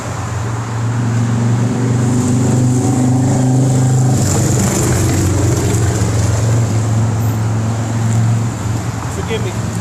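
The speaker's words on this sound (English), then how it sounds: "with his loud ass motorcycles, man." Loud motorcycles pass outside, a heavy, sustained engine roar that swells and rumbles for the whole stretch, with a voice speaking underneath.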